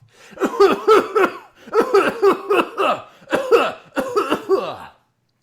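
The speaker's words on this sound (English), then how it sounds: "How long have you had that cough?" A voice acts out a fit of coughing, repeated hacking bursts in several clusters, close and loud, then silence.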